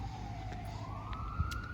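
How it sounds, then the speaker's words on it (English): A single siren wails faintly in the distance, heard from a backyard garden, its tone slowly rising, over low traffic rumble. "It's a lot of sirens."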